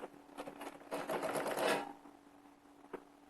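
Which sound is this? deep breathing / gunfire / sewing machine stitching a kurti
sewing machine stitching a kurti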